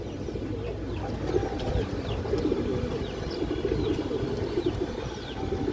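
Thar breeder pigeons coo in soft, repeated low calls close by, layered over a dense murmur of other birds chirping, steady and continuous.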